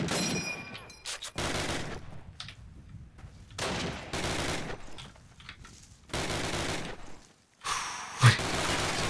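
Gunfire in the video game Call of Duty, with long loud bursts of rapid automatic fire broken by short pauses and a sharp single impact near the end, dense and close with no talk over it.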